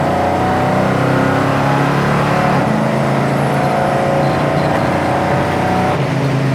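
A show-quality classic Mach 1 muscle car accelerates hard, its engine roaring loud and close in a sustained, rising rush with no talking.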